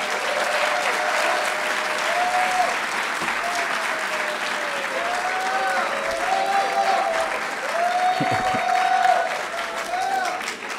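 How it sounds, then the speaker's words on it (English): A college audience applauding at a live-streamed event, dense, steady clapping from a crowd that swells slightly near the end, with some voices mixed in. "From the resounding applause"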